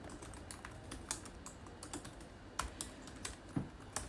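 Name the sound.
typing Java code on computer keyboard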